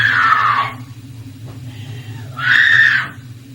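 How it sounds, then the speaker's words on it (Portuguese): A woman's desperate screams from the final scene of The Blair Witch Project, set in a cabin basement: two loud, sustained bursts separated by a quieter gap, over a low steady hum. "Durante a cena final, seus gritos desesperados são reais."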